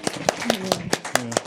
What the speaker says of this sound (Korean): 박수를 쳐요.